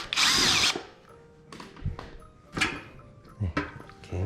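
A power drill unscrews screws from the drum of a Samsung washing machine, a sharp whirring burst followed by several shorter clicks and whines of the tool amid handling knocks.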